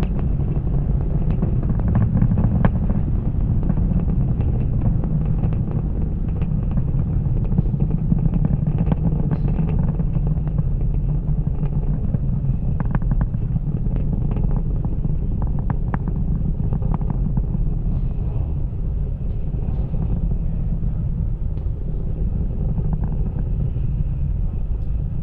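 A SpaceX Falcon 9 rocket climbs toward supersonic speed and Max Q after launch from a Florida space centre, giving a continuous loud, rumbling low roar that stays steady throughout with no voices.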